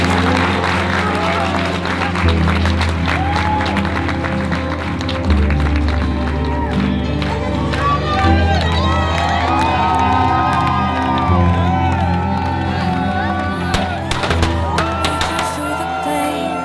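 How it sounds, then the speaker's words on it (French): Wedding guests at a celebration in Châteauneuf-du-Pape clap and cheer in a lively crowd, with whoops over continuous applause and music or voices mixed in. "On peut les applaudir."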